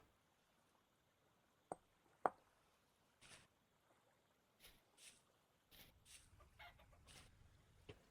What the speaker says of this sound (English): I think I heard a chicken.